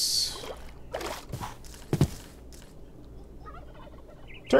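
Turkeys gobble in modded Minecraft, two quick bursts near the start and a louder pair at about two seconds, with a further call at the very end over a quiet game ambience.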